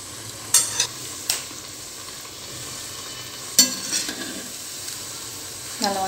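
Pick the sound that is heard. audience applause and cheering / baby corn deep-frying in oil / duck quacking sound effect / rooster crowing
baby corn deep-frying in oil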